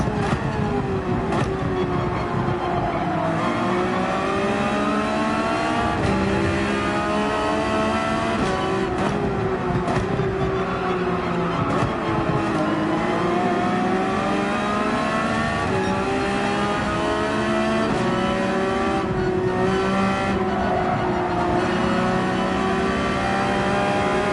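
Race car engine in Gran Turismo 7 at Laguna Seca, held at light throttle climbing a hill on medium tires: a continuous loud drone whose pitch slowly rises and dips, with faint tire and gear noise, no voices.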